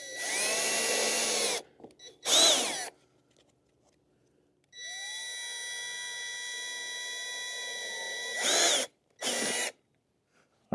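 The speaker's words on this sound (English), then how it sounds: "Okay, I have all the holes drilled in here now" A power drill whines in two long bursts while boring holes in a strawberry pot, with short revs and pauses between them, loud and close, with no talking.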